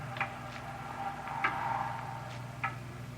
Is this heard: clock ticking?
yes